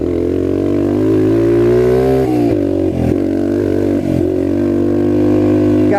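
Air-cooled 25-year-old trail bike engine revving hard and close, a loud steady mid-pitched drone that dips briefly a few times as the throttle blips, with no talk over it.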